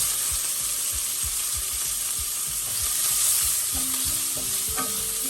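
Sliced onion, curry leaves and slit green chilies frying in oil in a pan for a bottle gourd and prawn curry, a steady close sizzle with repeated scraping stirs of a spatula, no talking.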